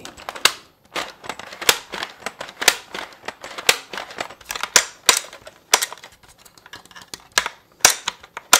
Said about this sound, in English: See if there's any difference between a Nerf rifle, ASMR, and a real rifle.